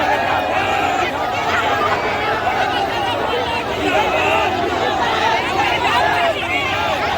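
A large outdoor crowd at a nomination rally for Jairam Kumar Mahato keeps up a loud, steady babble of overlapping voices and shouts, close and unbroken from start to finish.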